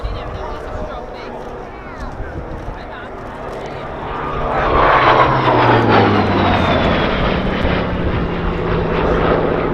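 A 2,500 horsepower Bristol Centaurus piston engine on a two-seat Sea Fury T20 trainer drones steadily, then swells louder as the plane passes close by at an airshow, its smooth roar dominating; a voice talks over it at first.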